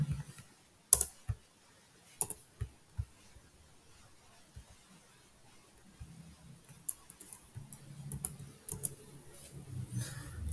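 Sparse computer keyboard keystrokes, a few sharp isolated clicks spaced apart as keys are pressed for a paste shortcut, followed by softer low mechanical rumble in a quiet room.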